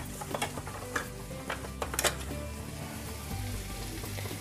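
Paneer and capsicum pieces being stirred with salt in a frying pan, a steady close sizzle under repeated scraping and clacking strokes of the spatula, with no talking.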